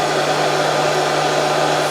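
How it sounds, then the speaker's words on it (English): A hairdryer blows steadily at close range over a model railway wagon, a constant loud whooshing hum with a low motor tone and no pauses. "so what we do is we use the Magic Workshop hairdryer"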